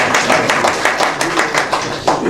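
An audience at a conference session applauds, many hands clapping loudly and steadily with a rhythmic pulse, fairly close.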